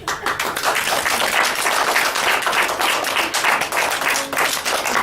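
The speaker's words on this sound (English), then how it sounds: "We can clap for them, guys." Children and adults clap together after a school poetry recital at Danville School. The dense, lively clapping carries on steadily for several seconds with a few sharper individual claps standing out.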